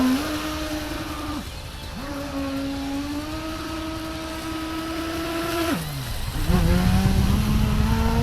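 UDI Arrow 5 RC speedboat motor whining under throttle, its pitch climbing and dipping as the boat runs and turns, dropping briefly twice and then surging back louder near the end.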